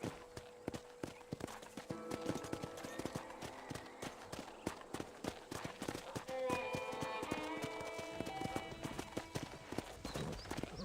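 Rhythmic hoofbeats clop steadily throughout, with a horse whinnying partway through and a soft musical backdrop underneath, in the video game Red Dead Redemption.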